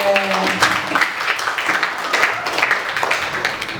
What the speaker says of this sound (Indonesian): Tepuk kabeh.